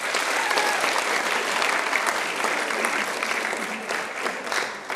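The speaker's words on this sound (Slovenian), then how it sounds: "Še en aplavz za vas." A live audience applauds steadily at a televised school awards show, dense clapping filling the room from start to finish with only a slight fade near the end.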